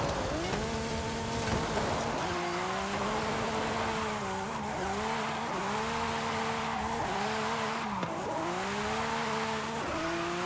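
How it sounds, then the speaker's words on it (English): A fully upgraded Lamborghini SVJ in Forza Horizon 5 holds an all-wheel-drive drift, its engine droning at a steady high pitch with repeated rises and dips in revs, layered over continuous tire squeal and loud and close. "Just like with any all-wheel drive drift, it's very easy to hold it."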